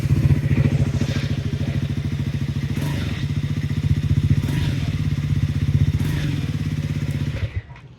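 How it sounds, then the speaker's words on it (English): A Triumph Speed 400 motorcycle engine idles steadily with a deep, even exhaust pulse, a few louder bumps along the way, then it shuts off near the end. "let me just start the motorcycle one by one to make you hear"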